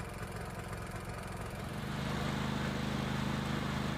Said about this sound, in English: Run the engine for at least 30 minutes at the mid-speed setting.